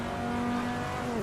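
A V10 race car engine in the Assetto Corsa racing game screams at steady high revs through a power shift into third gear, a loud continuous whine that sags slightly at the end.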